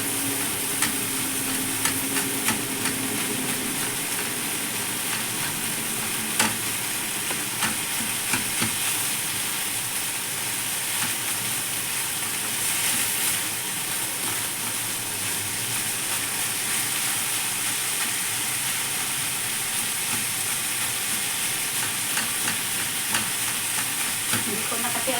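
Potato and minced pork omelette frying in a pan, a steady close sizzle and hiss running continuously throughout with occasional soft stirring clicks and no talk.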